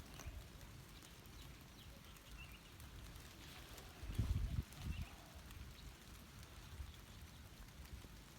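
Rain falls on a garden of Opuntia macrocentra cacti with a faint, diffuse, steady patter and one brief louder thump partway through. No one speaks.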